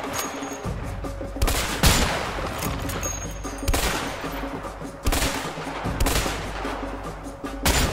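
Repeated loud gunshots in bursts from the video game A Way Out, sharp cracks recurring every second or so with rumbling between them and no talking.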